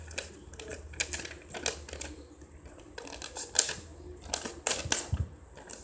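Origami paper is flipped, folded down the center and pressed flat for an inflatable cube-sphere model, producing close, crisp crinkles, taps and creases in irregular bursts, with no one speaking.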